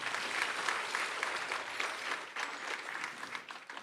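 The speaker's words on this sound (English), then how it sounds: "you guys are extremely mean with your clapping" An insurance sales conference audience clapping, steady dense applause of many hands that holds for a few seconds and then begins to thin, with no talk over it.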